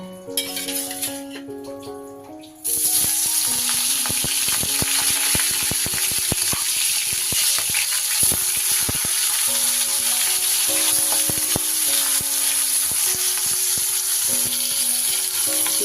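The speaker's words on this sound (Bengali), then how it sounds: "এবার আমি মাছের মুড়োটা ভেজে নেব।" Hilsa fish head frying in hot mustard oil in a kadai, a steady loud sizzle that starts abruptly after a quieter opening and carries on with scattered clinks and scrapes of a utensil against the pan.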